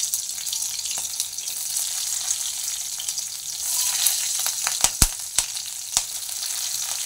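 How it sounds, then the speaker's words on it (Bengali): Black cumin seeds and green chilli sizzle in hot oil in a wok, a steady bright hiss with a few sharp pops and crackles toward the end, close and alone. "তো তার জন্য আগে কড়াইতে কালো জিরে ফোড়ন দিয়ে দিতে হবে"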